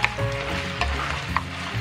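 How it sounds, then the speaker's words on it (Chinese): Sweet and sour spare ribs sizzle loudly in a wok over high heat, a close, steady frying hiss broken by quick clacks of the spatula tossing them. "转大火，快速翻炒，拌匀拌透就可以装盘了"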